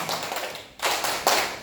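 Rhythmic hand clapping at a one-day scout camp, a few sharp, close bursts of claps from a group in a quick pattern, with no talk over them.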